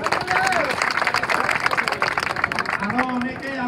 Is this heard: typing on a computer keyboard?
no